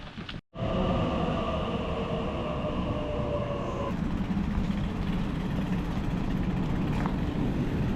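Sydney train running on the Liverpool to Windsor line, a steady close rumble and hum of the carriage rolling along, with a brief dropout near the start and a shift in tone partway through.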